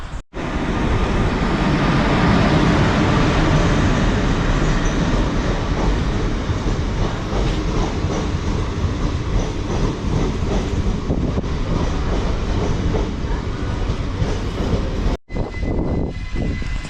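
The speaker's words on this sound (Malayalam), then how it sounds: "ഇപ്പോൾ ട്രെയിൻ വരട്ടെ." A train pulls into a station, a loud sustained rumble of wheels and engine that fills the whole stretch, steady and close, with a short break near the end.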